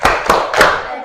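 Three sharp hand claps from a classroom of students doing a focus clapping chant, evenly spaced about a third of a second apart, loud and close.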